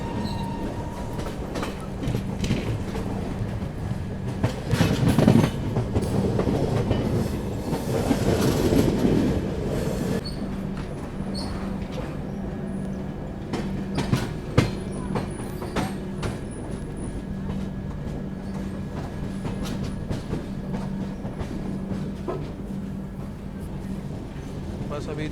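A train pulls into Gwalior station, with a steady rumble of rail cars, rhythmic clickety-clack of wheels and faint squeals passing close by, while someone talks over it.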